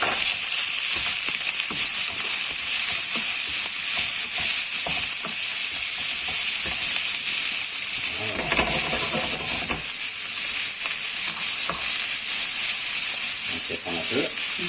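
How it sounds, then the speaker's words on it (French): Onions being added to a hot pan for a spicy Asian-style shrimp dish give a steady, loud sizzle and frying hiss throughout, broken by scraping and stirring clatter. "Ensuite on va incorporer les oignons."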